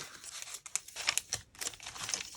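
Scissors or hands cut and crinkle paper for handmade playing cards, close and fairly quiet, with irregular snips, rustles and crisp crackles over a couple of seconds and no talking.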